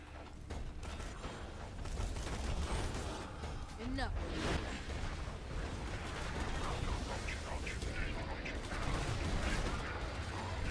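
Stinkpot gatling gun from Borderlands 2 spitting out a fast stream of shots, a long, loud rattle of rapid fire with whooshes and mechanical clatter, a voice talking faintly underneath.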